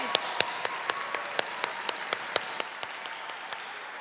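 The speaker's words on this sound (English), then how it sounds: "And graduates, let's give them a huge round of applause." Graduation audience at a spring college commencement applauding the standing faculty: a steady wash of crowd clapping with distinct sharp individual claps popping out in a regular rhythm, moderately loud, with no talk.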